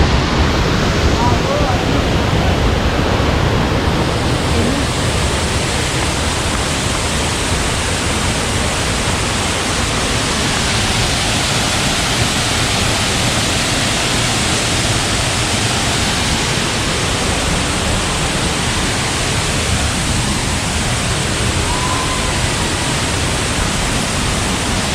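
A waterfall at Kadiyanlena on a stream pouring over the arches of a bridge gives a steady, dense roar of rushing water that fills the whole stretch without a break.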